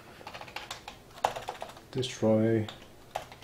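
Quick bursts of clacking on a computer keyboard, close and fairly loud, interleaved with someone speaking briefly.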